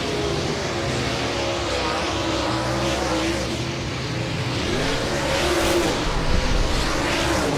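Dirt late model race cars hot lap at Humboldt Speedway, a loud continuous roar of several engines revving and passing around the dirt oval, swelling near the end.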